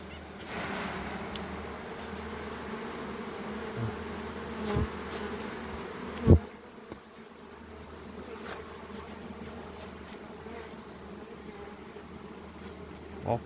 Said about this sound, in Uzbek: Mana arisi.